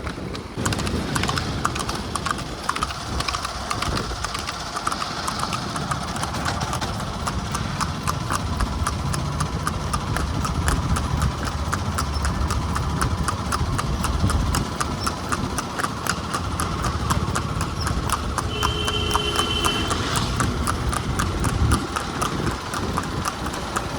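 A mare is urged into a run on a road, her hooves clip-clopping in a quick, steady rhythm close by for the whole stretch, with a faint hum in the background.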